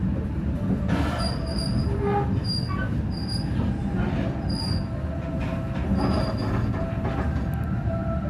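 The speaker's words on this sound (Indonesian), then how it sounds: "kereta api Blambangan Express tiba di Stasiun Cepu" The Blambangan Express train rolls into Cepu station at night with steady heavy rumble, and high metallic wheel squeals ring out repeatedly as it slows, loud and close.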